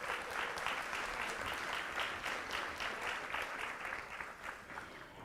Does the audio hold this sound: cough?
no